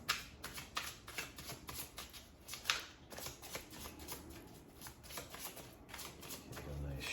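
Tarot cards being shuffled, heard as a run of quick, soft riffling flicks and slaps close to the mic, quiet and fairly continuous with small bursts.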